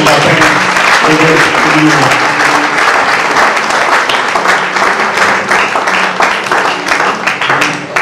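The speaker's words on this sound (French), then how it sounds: "Nous acclamons très fort" A church audience loudly applauds to honour a pastor, a dense, sustained burst of clapping from a crowd with voices mixed in underneath.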